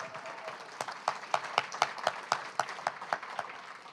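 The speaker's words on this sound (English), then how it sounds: "One more round of applause for our spring poet in residence" An audience applauds a poet at a reading, a steady run of claps with distinct sharp hits standing out in a regular rhythm over a softer crowd wash.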